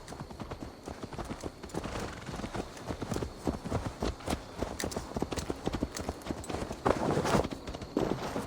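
Horse hooves clip-clopping steadily in Assassin's Creed Valhalla, a continuous rhythmic trotting close by with a brief muffled voice in the background.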